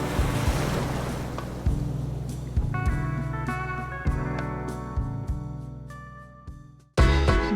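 Ocean waves wash onto a beach in Colombo, Sri Lanka, in a strong windy roar with repeated surges. Faint rhythmic music plays underneath, and a fresh crash arrives at the end.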